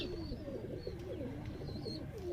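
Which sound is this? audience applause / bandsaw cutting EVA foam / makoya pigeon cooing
makoya pigeon cooing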